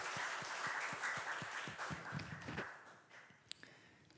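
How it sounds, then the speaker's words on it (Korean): Church congregation applauding at a Sunday service during the Chuseok holiday, a steady patter of clapping in a reverberant hall that thins out toward the end, with a couple of sharp isolated claps. "우리 하나님 앞에 감사의 박수를 올려드립시다"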